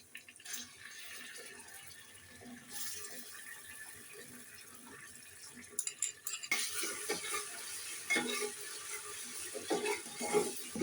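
Ginger and garlic paste frying in a pot gives a low, steady sizzle with scraping stirring strokes, growing louder and busier in the second half, with no voices.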